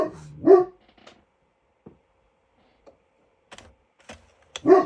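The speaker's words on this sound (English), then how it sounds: "That's my dog, Charlie." A dog barks indoors twice, loud and close, separated by a long quiet stretch with faint clicks and mechanical taps in between.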